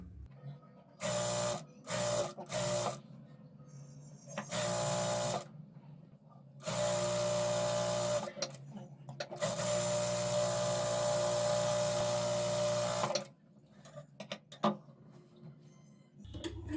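A sewing machine stitches a semi-Patiala salwar in a run of steady whirring bursts, a couple of short ones and then a long continuous stretch. It sounds close and alone, with faint clicks in the pauses.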